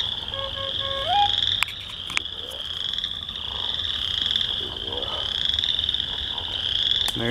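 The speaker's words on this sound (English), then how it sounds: "we got all these sounds of other frog species in the background" Several frog species call together in a wetland forest, with a continuous high trilling chorus running throughout and a few nearer croaks and clicks layered on top, with no voices present.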